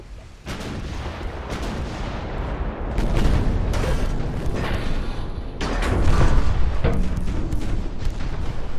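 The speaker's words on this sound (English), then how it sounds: "Another torpedo hit." Torpedo hits and naval gunfire in the warship battle game Ultimate Admiral: Dreadnoughts, with heavy rumbling booms and blasts that keep coming and swell loudest around the middle and later in the clip.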